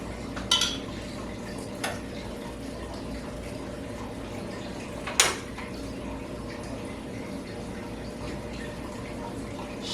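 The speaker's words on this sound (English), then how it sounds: "Stir it around." A spoon scrapes and clinks now and then against a pan while sweet and sour sauce for pork is stirred, set over a steady low sizzle and hiss from the cooking, with a few sharper taps standing out.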